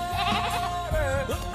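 Goats bleating close by, two or three wavering, drawn-out calls following one another with little else around them.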